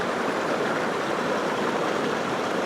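Dense, continuous rushing and splashing water, loud and close, with a steady broadband roar and no voices.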